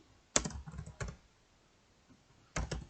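Keystrokes typed on a computer keyboard while entering a name, heard as short close clusters of clicks with pauses between bursts, in a quiet room with no talking.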